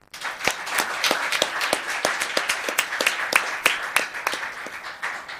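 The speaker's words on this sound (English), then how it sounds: "let's give a round of applause to this man" An audience at a town council meeting claps in a modest round of applause, with individual sharp claps clearly distinct and irregular, building slightly and then tapering off.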